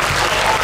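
A short burst of loud crowd applause at a driver talk show for the Fuji Super TEC 24-hour endurance race, continuous dense clapping with no gaps.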